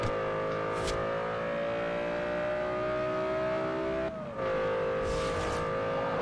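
A car drifting in the racing game Forza Horizon 2: a sustained, steady engine drone that holds its pitch, dipping briefly before resuming, with faint tire squeal bursts near the start and end.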